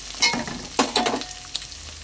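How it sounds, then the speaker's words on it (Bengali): Ground turmeric, coriander, chili, cumin and Kashmiri red chili powder sizzling and frying in a pan for a mixed-vegetable bori dish, with bursts of stirring scrapes over a steady crackle, close and fairly loud. "মশলাটা আমি ভালো করে কষিয়ে নেব"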